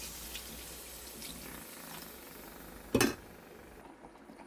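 A little water poured into a pan of eggs simmering in cooked-down spiced masala, heard close over steady kitchen noise, with one brief louder splash midway.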